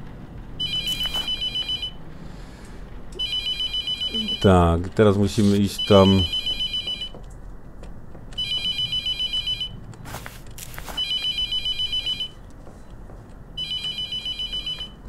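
A telephone rings repeatedly in the horror game The Mortuary Assistant, steady electronic trills in regular bursts, briefly overlapped by someone talking mid-clip.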